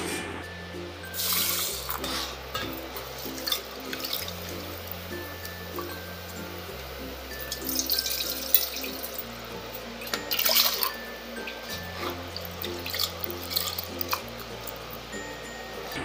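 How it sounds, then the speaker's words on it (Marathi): Toor dal and chana dal are washed by hand in water, giving soft splashes and trickles close by, with a steady background music track playing throughout. "आणि ती स्वच्छ 2 पाण्याने धुवू आपण।"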